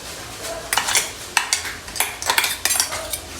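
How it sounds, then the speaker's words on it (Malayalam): A spoon scrapes and clinks against a dish in irregular stirring strokes, close up, with sharp metallic taps between softer scrapes. "സ്പൂണ് കൊണ്ട് ഇളക്കുന്നുണ്ട്."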